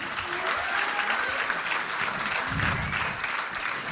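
A live music show audience applauds a performer loudly, a thick wash of clapping that stays strong throughout, with a low murmur of voices underneath.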